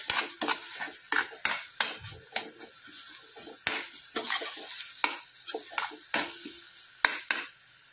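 Eggplant bharit with salt is stirred in a pan, busy repeated scrapes and clinks of a spoon against metal over a soft background sizzle, fairly quiet and steady for several seconds, no talking.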